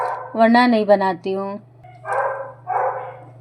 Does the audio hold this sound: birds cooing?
no